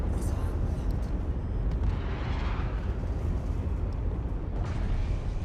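Missiles fired and exploding during Star Citizen space combat against a Mantis ship, a continuous heavy roar of rumbling blasts that stays loud and dense throughout.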